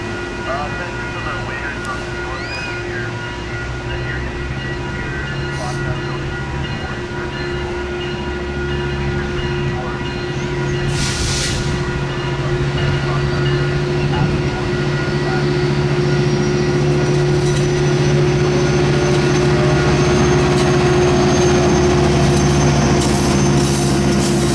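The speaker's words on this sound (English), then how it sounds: "Speaking of Metrolink, they'd provide my first catch in San Clemente with northbound train 860 running" A Metrolink northbound train 860 rolls past on the beachside line in San Clemente, a steady rumble of engine and wheels building louder over the clip, with a brief horn-like burst partway through and people talking faintly.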